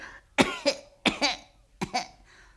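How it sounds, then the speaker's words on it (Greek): Three harsh coughing bursts, each with a short double hack, loud and close, spaced about a second apart. "ανάσαινε μωρέ και βήξε."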